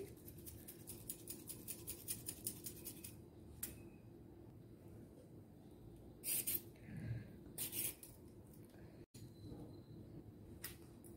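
Cucumber grated from both sides on a kitchen grater, a fast run of dry rhythmic scraping strokes in the first few seconds, followed by a few louder scrapes and clatter, close and fairly quiet, no talking.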